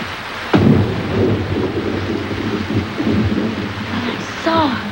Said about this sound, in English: It was just the storm.